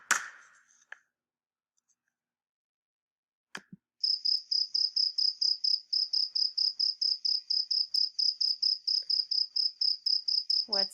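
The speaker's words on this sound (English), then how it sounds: "A cricket." A cricket chirps in a steady, rapid, high-pitched pulsing trill that runs alone for several seconds after a few brief clicks and knocks.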